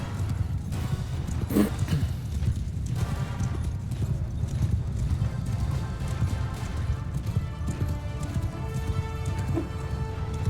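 Horses galloping in the Mount & Blade II Bannerlord video game, rapid rhythmic hoofbeats drumming continuously over a low rumble, with a voice speaking over the action.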